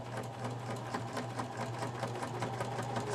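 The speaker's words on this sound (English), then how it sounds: "I'll be sewing the collage on the front of the notebook first. I will be using a zigzag stitch" A sewing machine runs a zigzag stitch through a collage on the front of a notebook, with a steady close mechanical hum and rapid even needle clatter running throughout.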